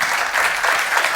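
Steady audience applause fills a conference hall at the close of a talk on in-building IoT, a dense wash of many hands clapping at even loudness throughout, with no voices.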